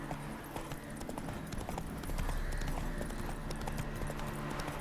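Geralt's horse Roach galloping in The Witcher 3: Hearts of Stone, a steady rapid clip-clop of hooves running continuously at moderate loudness, with no one talking over it.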